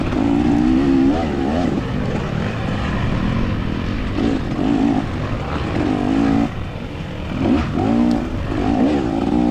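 Vintage motorcycle climbing a short hill at a scramble, its engine revving loudly in repeated bursts as the rider works the throttle over rough ground, with steady motor noise throughout.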